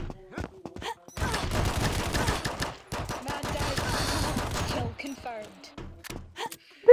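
Heavy video-game gunfire rattles in long, loud sustained bursts with short gaps between them, followed by game voice callouts and a closing thump.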